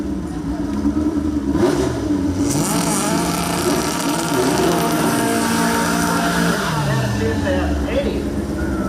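Drag-strip VW Bugs on small rear tires rev and accelerate hard, engines rising and falling in pitch at close range, with a loud mid-range roar under announcer-style talk and crowd ambience.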